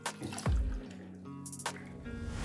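Water draining from soaked beans poured into a sieve: soft splashes and trickling drips, fairly quiet and close, with a few brief louder gushes.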